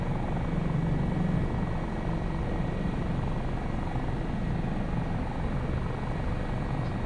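Simulated AS365 Dauphin helicopter in the MSFS2024 flight game: a steady, loud turbine-and-rotor drone holding constant throughout, with a low thrumming body and faint high whine, no voices.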